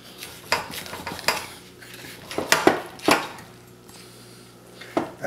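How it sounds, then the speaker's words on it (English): A knife slices breast meat off a roast turkey, with clinks and scrapes of blade and fork against a plate and a few sharper knocks, close and without talk. "we're going to slice right off of the breast meat"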